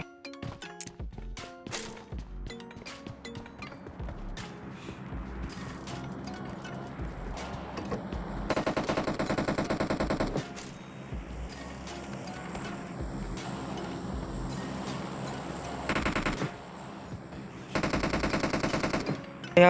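Rapid gunfire from a teammate's weapon in a shooting video game, with bursts of automatic shots and single cracks layered over game effects, loud and close, in repeated stretches across the clip.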